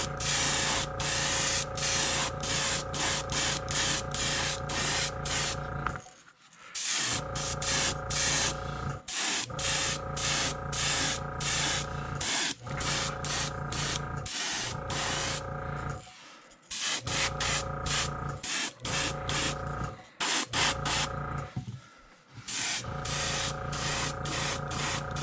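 An airbrush sprays red paint onto a crankbait fishing lure in long steady hissing bursts, close and loud, broken by short pauses between passes.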